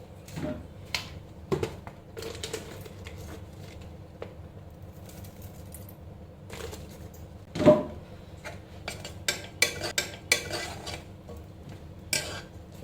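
Ground masala being stirred with round brinjals in a pressure cooker pot: irregular metallic scrapes and clinks of a spoon against the pot, fairly close, with quiet pauses between strokes.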